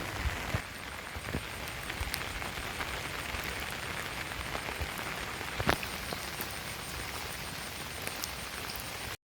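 Steady rain falls on a hard surface in Jalpaiguri, India, a constant dense hiss scattered with sharper drip and splash ticks, with no voices.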